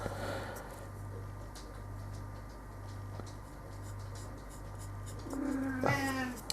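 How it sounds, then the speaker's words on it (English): A pet cat meows in a room during a miniature painting session, one rising and falling meow near the end over a steady low hum, with faint scratchy sounds earlier. "my cat is a little bit annoying in the background"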